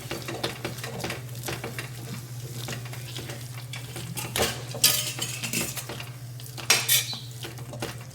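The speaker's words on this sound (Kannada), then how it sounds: "ಇವಾಗ ಒಂದು ಬೇಳೆ ಒರೆಯೋ ಗುಂಡು ತೊಗೊಂಡು ಸ್ಮ್ಯಾಶ್ ಮಾಡಿರಿ ಎಲ್ಲನೂ" Repeated clanks and scrapes of a metal dal masher pressing pav bhaji vegetables in a pan over low heat, with a steady low hum beneath and louder metallic knocks toward the end.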